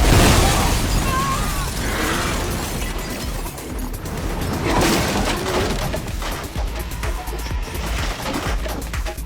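A time bomb explodes in a crime film, a loud, sustained roaring blast with crackling debris that rumbles on and slowly fades over several seconds.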